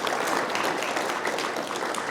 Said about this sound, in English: I'd also like to have a small little applause right there for that great event